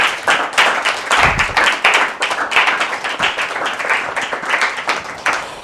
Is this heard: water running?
no